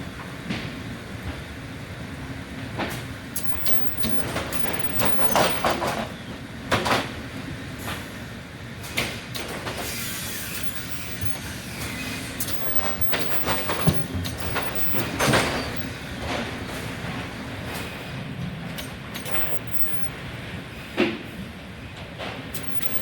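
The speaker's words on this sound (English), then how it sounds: "now let's get on to the board flipper back at our place." A loud board flipper machine runs at a workplace with a steady rumbling mechanical drone and repeated sharp clanks and bangs, alone with no talk.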